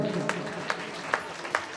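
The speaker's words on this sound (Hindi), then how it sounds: "ताली ताली ताली" A few sharp claps ring out at an even, unhurried pace over a low murmuring background during a Ramayan recital gathering. It sounds more like scattered rhythmic clapping than a full ovation.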